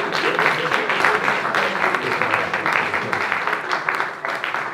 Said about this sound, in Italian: Sento gli applausi molto forti